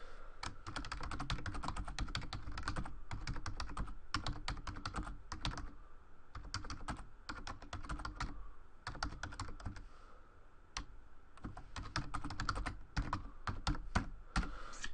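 Typing on a computer keyboard, rapid clusters of close, crisp key clicks with a few short pauses between bursts, steady throughout.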